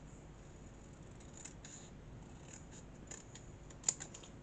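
Scissors snipping through paper while a Christmas Santa's sack decoration is cut out, a quiet run of short, close cuts with one sharper snip near the end, no talking.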